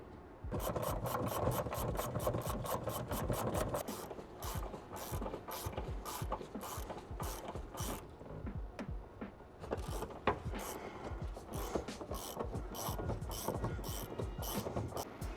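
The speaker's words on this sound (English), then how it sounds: "We're going to take each of these off with a hand wrench and then drop the coilover down carefully." Rapid metallic clicking of a hand ratchet wrench turning 15mm coilover mount nuts on a BRZ, fast regular bursts early then slower uneven strokes, close and steady.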